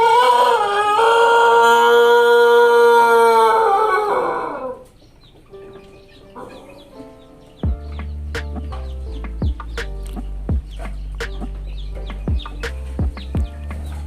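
A Pelung rooster, a long-crowing breed that was sick with a rattling breath, lets out one loud, drawn-out crow with harmonic waves for about five seconds, followed by quieter background clatter and sharp knocks.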